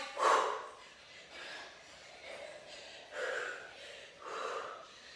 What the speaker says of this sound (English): let me hear those exhales as we rise